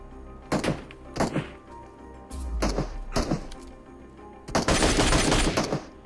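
MK12 marksman rifle firing in the PUBG Mobile video game: several sharp single shots at spaced intervals, then a dense burst of rapid fire near the end, loud and close with no talking.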